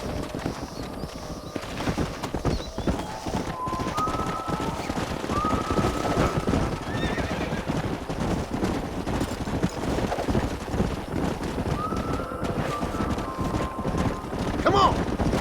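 Horse hooves clip-clop at a steady gallop through a Red Dead Redemption scene, with wind and scattered bird calls over a continuous outdoor bed and a few brief whinny-like tones; no one speaks.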